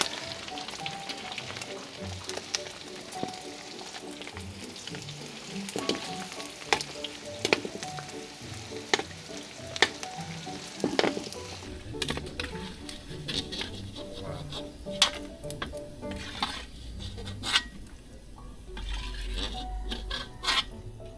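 Tuyo, dried fish, frying in a pan, giving a continuous crackling sizzle with scattered pops and spattering that grows denser and harsher in the second half.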